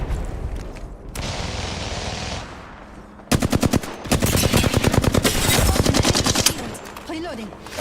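Gunfire in an Apex Legends match played as Wattson: a loud, rapid automatic burst of evenly spaced shots firing close up for several seconds after a brief quieter stretch.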